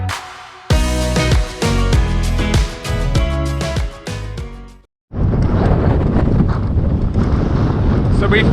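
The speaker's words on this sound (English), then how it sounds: "the wind is absolutely freezing" Strong wind buffets outdoors on a mountain road in France with a view through the trees, a loud continuous roar across the whole stretch, briefly cut off for a moment near the middle.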